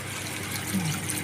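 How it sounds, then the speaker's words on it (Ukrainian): Water runs and drips steadily in a hotel setting, a constant loud rushing wash with no talk over it. "Це, це тут вода капає. Капає вода."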